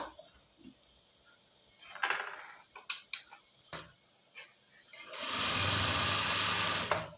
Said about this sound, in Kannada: ಸ್ಲೀವು ಮತ್ತು ಚೆಸ್ಟು ಮತ್ತು ವೇಸ್ಟು ಈ 3 ಅಳತೆಗಳನ್ನು ಸೇರಿಸಿ ಒಂದು ಸ್ಟಿಚ್ ಹಾಕೋಣ.